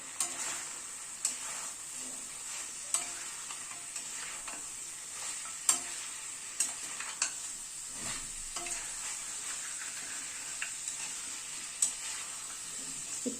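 Onions and tomato for a mutton curry fry and are stirred in a pan, a low continuous sizzle broken by repeated spatula scrapes and clicks at irregular intervals, faint and close.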